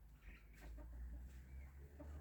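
Household chickens cluck softly and intermittently in a village courtyard in Uzbekistan, mixed into a steady low outdoor rumble with no one talking.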